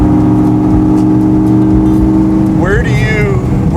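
Engine of a 1967 Ford Mustang Fastback FIA car, loud and close, holding a steady throaty drone before climbing sharply in pitch as it revs higher.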